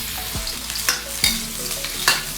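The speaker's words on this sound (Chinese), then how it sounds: "葱姜爆香" Chopped scallion and ginger sizzle loudly in hot oil in a wok while a spatula strikes the pan three times at a steady pace over the crackling.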